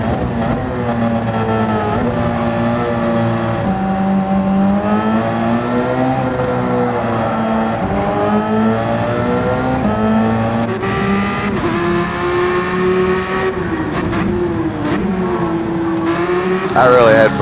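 A race car engine at Spa in a racing video game, loud and continuous, its pitch rising and falling through gear changes, with a person talking over it throughout.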